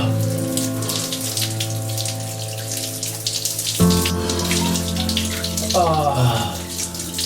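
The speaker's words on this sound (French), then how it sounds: "Douche froide." Steady rush of cold shower water running continuously with a changing tone partway through, as the spray shifts against a body or surface.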